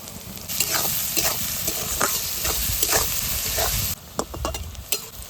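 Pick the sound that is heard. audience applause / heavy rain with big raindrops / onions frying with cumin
onions frying with cumin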